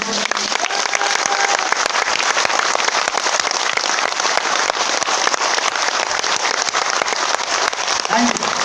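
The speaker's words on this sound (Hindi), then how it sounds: "ताली जोरदार बजाइए अपने लिए सर।" A seminar audience applauds: dense, sustained clapping from a large crowd fills the room loudly and evenly, with a voice briefly audible at the start and end.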